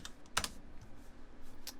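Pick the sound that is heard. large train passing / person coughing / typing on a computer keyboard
typing on a computer keyboard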